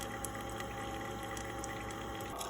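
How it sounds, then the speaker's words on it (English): Hot water poured over flowers to steep color-changing tea, a steady liquid trickle and splash mixed with a low hum, with no talking. "you want to add hot water so that you can start the steeping process of the tea"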